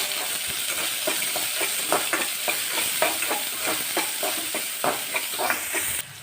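A spoon stirs ginger paste, green garlic and curry leaves in a hot, sizzling pan, with repeated scraping strokes in an uneven rhythm over a steady frying hiss, close and moderately loud.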